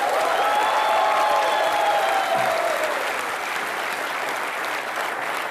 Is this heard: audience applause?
yes